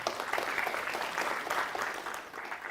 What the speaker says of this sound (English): can we give a quick round of applause?